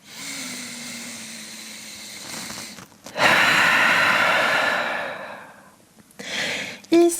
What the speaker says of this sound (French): immense respiration